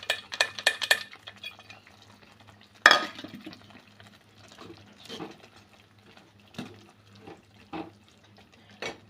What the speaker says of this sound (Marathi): आता यामध्ये आपण सर्व हुलगे शिजलेले टाकूया